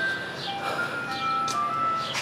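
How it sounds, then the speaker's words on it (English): An ice cream truck passes by, its tinkling melody tones drifting across the clip at moderate loudness, with faint background noise and no talk. "Sorry about the ice cream truck."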